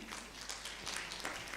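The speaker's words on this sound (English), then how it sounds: "A round of applause for our panel." Conference audience applauding a panel at a regional multi-stakeholder dialogue, a dense, fairly distant patter of clapping that stays steady through the moment.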